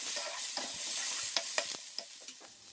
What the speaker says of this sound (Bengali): আর দেখো এগুলো কষানো হয়ে গিয়েছে, দিয়ে দিলাম কয়েকটা টমেটো কুচি।